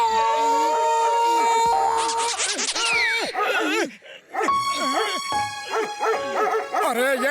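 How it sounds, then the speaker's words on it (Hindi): Cartoon dog barking repeatedly in a lively animated comedy scene, loud yaps and bow-wows layered over music and sound effects, with a brief pause midway before the barking resumes. "अरे ये डॉगी तो सोने ही नहीं देता, जब देखो भौंकता ही रहता है"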